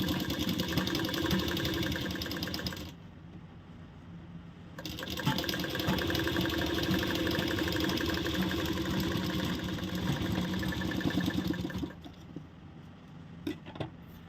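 Sewing machine running double stitching along a salwar seam, a loud continuous mechanical whirr that stops briefly near three seconds, resumes, then cuts off near twelve seconds with a few light clicks after.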